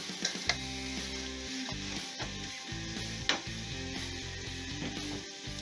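Ginger and garlic frying in hot oil with spices for a Kerala-style lime pickle, a steady close sizzle with a few sharp clicks of a spoon against the pan, and music playing underneath throughout.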